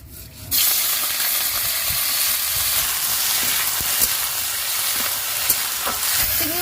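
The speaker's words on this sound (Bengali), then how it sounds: "তেলটা গরম হয়ে গেছে, চিংড়ি মাছগুলো ভেজে নেব।" Prawns frying in hot oil for a Bengali echor chingri dish: a steady, bright sizzle starts abruptly after a brief quiet moment and holds constant, with occasional small pops and crackles and no talking.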